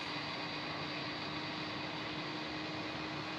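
A Qantas Airbus A330 jet taking off at Melbourne Airport, a steady, loud, broadband engine roar that holds constant throughout with no other sounds.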